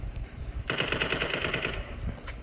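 The Vulkan gun fires in the Rivals video game, a rapid, rattling automatic burst lasting about a second, loud and metallic, over low background game noise.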